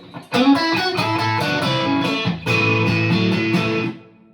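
Electric Stratocaster guitar played with the bridge, neck and middle pickups together, a run of picked notes and chords ringing clear and loud, one brief pause midway, then sustained strums fading out.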